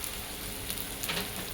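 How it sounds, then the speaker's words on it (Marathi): Vegetables stir-fried in a pan with red Byadgi chilli powder for Marathi dahi aloo, giving a soft, steady sizzle with faint crackles throughout, no talking. "आपण याला जरा भाजी परतून घेऊया."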